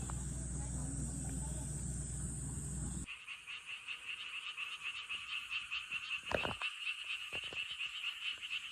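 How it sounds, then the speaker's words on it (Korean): Frogs croak loudly at night near a pool in a rural Chungju–Jecheon area, a dense pulsing chorus rising after a loud sizzling grill noise ends, with brief voices cutting in. "개구리가 엄청 울어"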